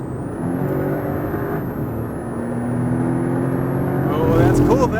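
A Porsche Cayman T accelerates on the Hockenheimring race track, its engine note rising steadily and growing louder toward the end, with a voice speaking over the onboard noise.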